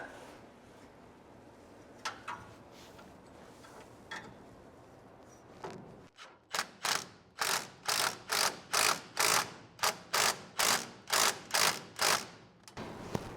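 A ratchet tightening bolts on a hay baler part: quiet handling first, then a steady run of about a dozen sharp, evenly spaced clicking strokes, loud and close.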